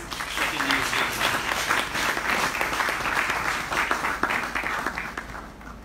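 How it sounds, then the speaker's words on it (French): An audience applauding at a church holiness-week gathering, a steady wash of many hands clapping that stays full for several seconds and eases off slightly at the end, with some voices mixed in. "On nous applaudit pour cette initiative."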